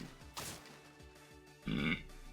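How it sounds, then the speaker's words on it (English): A single short, low burp from a person who just ate an apple, fairly close and quiet, following a few soft knocks and a brief breathy sound. "Sorry, I'm burping."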